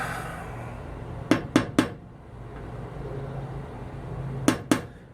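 A few sharp metallic taps of a hammer dimpling metal on a Dodge Dart Swinger trunk, three quick strikes then two more after a pause, over a quiet background hum.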